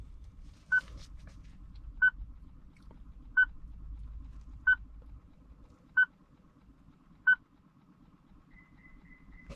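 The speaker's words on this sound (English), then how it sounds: "The beeping will stop" A Subaru Legacy chiming during keyless entry programming: six short electronic beeps at an even pace about 1.3 seconds apart, clear and close over a low rumble, then a fainter tone at the end, with no voices.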